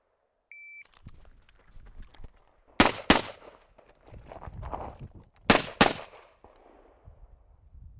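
A rifle fires at targets on a shooting range, and a short electronic timer beep comes first. Four sharp cracks follow in two quick pairs, loud against a quiet background.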